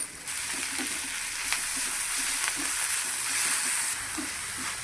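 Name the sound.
frying mint and coriander leaves in a pan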